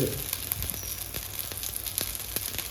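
Paniyaram batter frying in a hot pan, a steady close hiss of sizzling oil with faint crackles throughout, no talking.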